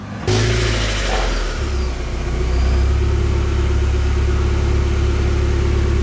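A 1991 Mazda Miata engine fires up on its first start after a build, catching abruptly and settling into a loud, steady mid-pitched roar with throttle blips, close to the car and with no talking.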